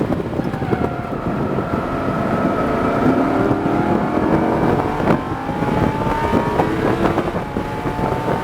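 A Lamborghini Huracan, an all-wheel-drive car, lapping Hedge Hollow Raceway. Its tires squeal steadily, with shifting whining tones over a continuous engine and road roar and some wind buffeting, all heard from close inside the car.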